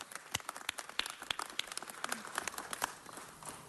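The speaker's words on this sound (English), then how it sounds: "And our fire department, a round of applause." Applause for the fire department at a Los Angeles city council meeting, a few seconds of scattered, fairly distant hand clapping from a modest crowd that thins out toward the end.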